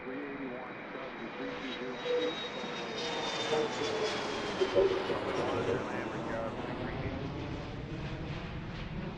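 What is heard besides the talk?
airplane taking off at Washington Reagan National Airport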